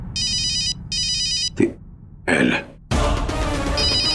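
Two bursts of electronic telephone ringing, then a throat-clearing noise, a rustle and a broad noisy rush toward the end.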